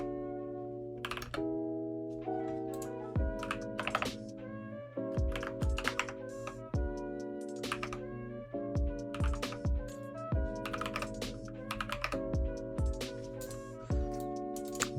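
Fingers type on a computer keyboard in irregular bursts of soft clicks and clacks, set against steady background music with sustained tones.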